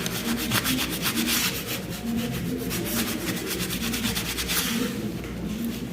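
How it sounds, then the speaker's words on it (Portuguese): A spatula rubbing firmly along paper edges of a handmade planner cover, a close, continuous rhythmic scraping and rubbing with rapid back-and-forth strokes, alone without speech. "Aí essa parte é bom você ter uma espátula pra fazer esse acabamento aqui"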